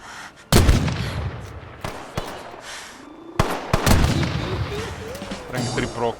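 Gunfire in three-shot bursts from a survival video game, a loud close series of sharp cracks spaced apart over roughly six seconds with short tails, game sounds trailing between them.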